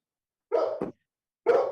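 Dog barking indoors during a town council meeting, two separate barks spaced about a second apart, close and fairly loud against otherwise silent background.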